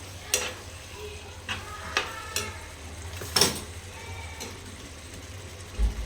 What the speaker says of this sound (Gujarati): ફરીથી બધું મિક્સ કરી દઈશું